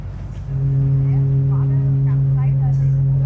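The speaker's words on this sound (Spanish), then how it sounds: "Estamos en la popa, donde están los motores, las hélices." Ferry engines and propellers at the stern on a crossing to Vancouver Island: a loud, steady low drone with a strong hum that swells in after the first half second and holds, with faint voices in the background.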